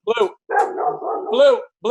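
A dog barks and whines in loud, close bursts, a short yelp followed by a longer drawn-out howling bark and another yelp.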